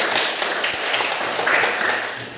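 Children in a classroom clap their hands together in a dense, steady burst of applause that fills the room for a couple of seconds, with no clear voices above it.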